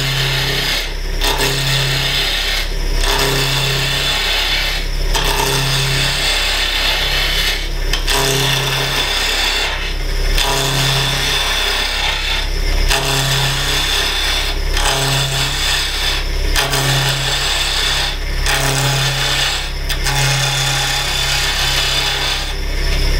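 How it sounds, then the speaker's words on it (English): Spindle gouge cutting wood on a lathe running at about 2000 RPM while shaping a bottle stopper, loud rasping shavings broken by regular pulsing passes of the tool, close and continuous with no talk. "We'll crank the lathe speed up, about 2000 RPMs,"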